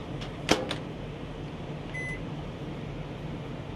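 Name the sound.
microwave oven running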